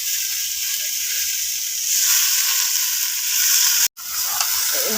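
Panch phoron, whole cumin, potato, eggplant and spinach sizzle hard in hot oil in a pan, a loud, continuous close hiss with a brief break near the end.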